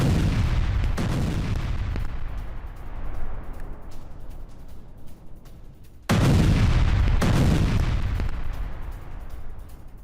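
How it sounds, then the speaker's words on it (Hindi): Heavy airstrike explosions in Lebanon boom in two powerful bursts several seconds apart, each a sharp thunderous blast followed by a long rumbling decay, with fainter cracks in between, loud and at a distance. "तो कैसे जोरदार धमाके हुए हैं ये आपने देखा इन तस्वीरों के जरिए"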